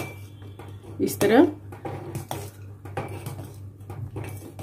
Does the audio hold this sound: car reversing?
no